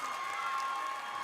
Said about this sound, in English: that got the crowd excited